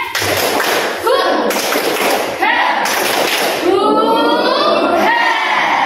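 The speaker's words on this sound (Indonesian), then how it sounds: "Sebelum mengerjakan, tetap semangat, tepuk semangat." A classroom of students performs a rhythmic spirit clap in unison, with bursts of sharp, loud clapping and thumping alternating with group chanting voices, all close and energetic.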